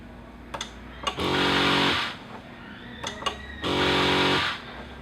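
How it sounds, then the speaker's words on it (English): An electric water sprayer pump whirs in two sustained bursts of about a second each, separated by short clicks and a quiet pause. "there is a little bit of a noise accompanied with the pump running"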